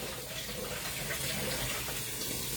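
A kitchen tap runs to draw hot water while baking, a continuous even rush of flowing water heard close up with no speech over it.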